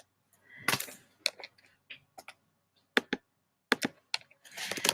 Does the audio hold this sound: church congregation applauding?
no